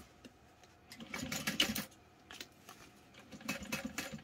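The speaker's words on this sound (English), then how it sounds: "now we're going to top stitch at a 1/8 of an inch seam allowance around this curve" Sewing machine top stitching a garment curve at a long stitch length, running in two bursts of rapid mechanical whirring with a short pause between, close and fairly quiet.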